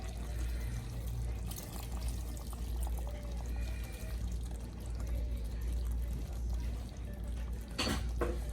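Water poured into a cooking pot of Guyanese bunjal duck curry, a steady soft pouring and splashing heard close and alone for several seconds over the hum of the stove, with a brief louder splash near the end.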